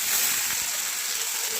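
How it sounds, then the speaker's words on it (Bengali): Onions and tomatoes frying in hot oil with whole cumin and bay leaf for chicken kosha give a steady, close, broadband sizzle that hisses evenly throughout with no talking. "তেলে দেবো গোটা জিরে আর তেজপাতা, কেটে রাখা পেঁয়াজ টমেটোগুলো দিয়ে দেবো"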